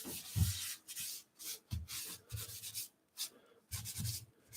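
Tissue rubs over a drawing surface to blend a koala drawing, giving soft, close scrubbing strokes in short bursts with brief pauses between them, quiet and without speech.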